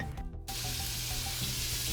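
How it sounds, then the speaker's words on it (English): Steady broadband sizzle from a pan while Cajun Alfredo pasta cooks, loud and continuous after a brief clatter at the start, with no talking. "Do you hear that sizzling sound?"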